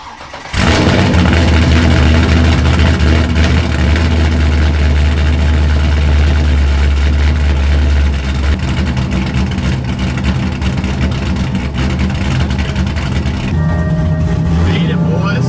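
A drift car's engine cranks and catches, then runs loud and close with a deep, steady idle rumble, its tone shifting slightly near the end, while speech is faintly present beneath it.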